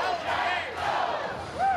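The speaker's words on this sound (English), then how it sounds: "those cheering for green and gold at Stadium View Bar never took a break." Green Bay Packers fans in a crowded sports bar roar and whoop together during a playoff game, a dense, loud swell of overlapping shouting voices with rising cries, close and continuous.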